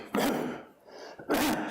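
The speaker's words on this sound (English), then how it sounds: "Still got my annual fall cough here." Two short, harsh coughs separated by a brief pause, close and fairly loud, with no other talk around them.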